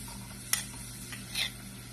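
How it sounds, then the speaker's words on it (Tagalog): Onion and garlic sautéing in a hot pan, a soft steady sizzle with a sharp utensil tap near the start and a brief louder scrape-like burst later; no voices. "Magsusuti tayo ng garlic tsaka onion para sa sauce natin."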